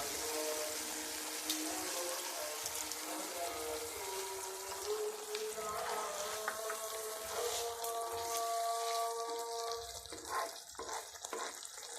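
Water hits a hot pot of cooking chicken with cabbage, bursting into loud sizzling and bubbling that settles into tonal hissing and gurgling, with stirring scrapes toward the end.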